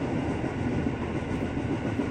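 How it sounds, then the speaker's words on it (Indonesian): Inside an eight-car KRL commuter train bound for Bogor at night, a steady rumbling roar of wheels on rails fills the cabin, continuous and fairly loud with no talk. "sekarang kita ada di KRL komuter lain tujuan Bogor dengan 8 kereta dengan formasi 4 plus"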